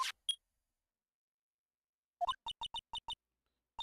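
A pair of quick clicks, a pause, then a string of short electronic beeps in a quick uneven pattern, ending with one last beep, from a video game clock announcing the time.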